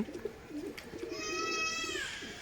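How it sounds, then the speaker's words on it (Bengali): Pigeons, young birds being settled into a loft at a home, coo and call nearby, their tonal calls rising toward the end over a steady low background murmur; no wingbeats stand out clearly. "মেরেছি কবুতর কিছু উড়িয়েছি তো দেখুন"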